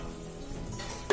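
Spiced chickpeas cook in a pan on low heat, giving a soft, steady sizzle with a brief metallic clink at the very end and no talking.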